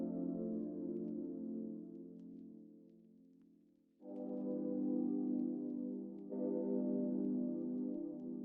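A sustained synth pad from an Analog Lab preset plays piano-style chords, with warm layered tones holding steady, dipping softly around the middle, then re-entering louder with two fresh chord changes, heard alone without voices.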